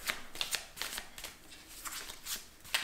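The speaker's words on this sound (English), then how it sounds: "shuffle the deck." A deck of tarot cards being shuffled up close, with repeated quick riffling bursts of crisp papery flutter and snaps, alone and fairly soft.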